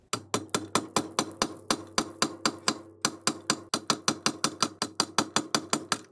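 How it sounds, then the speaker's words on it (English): A hammer drives a chisel into the bearing carrier of a Mercruiser Alpha outdrive lower unit, giving about thirty loud, close, metallic strikes in a steady rapid rhythm with one brief pause. "I'm going to chisel that away and collapse that portion of the carrier."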